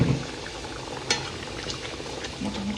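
Fish curry with tomatoes and green chillies simmering after a little hot water is added, giving a low, steady bubbling with faint liquid pops and a soft clink partway through.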